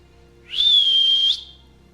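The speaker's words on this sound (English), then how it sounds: "That was a great whistle." A person whistles a single sustained, steady tone lasting under a second, clear and close, with no talk over it.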